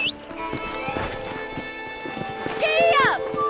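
Horse hooves clip-clopping in the Red Dead Redemption video game, heard as steady galloping beats under a voice and a brief whinny-like call near the end.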